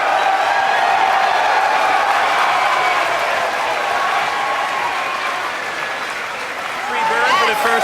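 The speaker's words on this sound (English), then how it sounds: "And you hear the cheering in the background." Crowd cheering and applauding during the first Falcon 9 rocket landing in 2015, a sustained wash of claps and shouts from a large group that holds steady, dips briefly, then swells again near the end.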